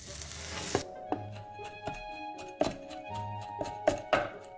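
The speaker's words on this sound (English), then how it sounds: "The boiled erjingtiao, shinidai, and hongtaiyang chili is repeatedly chopped and pounded until it becomes chili paste" Boiled erjingtiao, shinidai and hongtaiyang chilies being chopped and pounded into paste at a Xuzhou street-food stall: a series of sharp, irregular thuds, about eight blows spaced out over a few seconds, against a faint tonal background.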